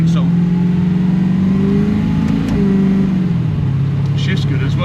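Chevy 5.8L V8 in a BMW E21 driving, a steady low engine drone with a brief rev swell midway, heard from inside the car with faint voices.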